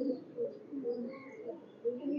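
A pair of Benaras pigeons coos softly in low repeated rolling phrases, close but quiet, with faint chirps above.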